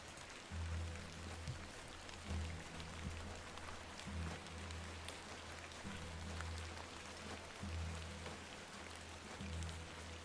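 Rain falls steadily in the video game The Excavation of Hob's Barrow, a soft, even patter throughout with a low droning ambience pulsing beneath it.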